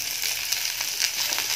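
Onions dropped into a frying pan of hot fat, a bright, dense close sizzle with a few popping crackles over its short span, no voices.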